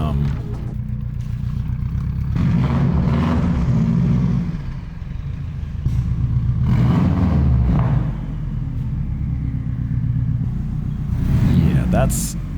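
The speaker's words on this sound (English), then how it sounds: "the car has been running for a while" A cheap rally car's engine runs steadily with a low, throbbing rumble that swells slightly now and then, while someone talks over it throughout.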